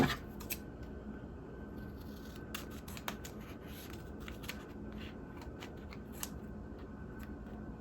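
Scissors snip and rustle at the edges of a chip bag party favor, making quiet, scattered cuts and crinkles up close in a calm room.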